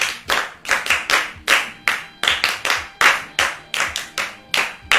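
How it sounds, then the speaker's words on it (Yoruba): A group at a children's programme claps hands in sharp, loud bursts, about fifteen claps in a rhythmic, patterned beat, close and with no talk. "ọ̀yá àtẹ́wọ́ ìmìdá o"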